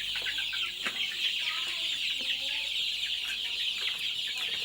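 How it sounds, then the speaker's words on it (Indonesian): Many chickens clucking steadily inside a crowded coop, a dense continuous flock chatter with scattered individual clucks, fairly close and loud throughout. "walaupun masuk di kandang ayam, walaupun begitu banyak ayamnya"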